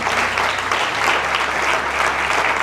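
A church congregation claps together during a faith class, loud sustained applause filling the room at an even level from start to finish.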